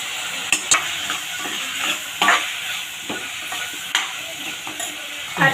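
A spoon stirs and scrapes through mint rice masala with green peas, turmeric and garam masala frying in a pan, with a steady sizzle broken by irregular clacks and scrapes against the metal.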